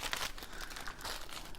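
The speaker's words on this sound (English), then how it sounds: "Sorry about the crinkling," Packaging crinkles in bursts of crisp rustling close to the microphone, fairly faint, with no talk over it.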